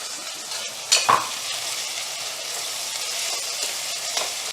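Ground raw curry leaf paste fries in a hot pan with a steady hissing sizzle, broken near the start by a couple of clattering stirs of a spoon against the pan.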